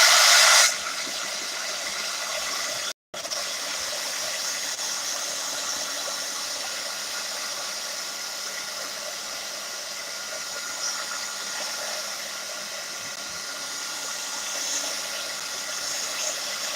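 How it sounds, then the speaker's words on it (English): A heat gun runs with a steady, airy blowing hiss that holds at an even level, broken only by a brief cutout near the start. "let me run the heat gun,"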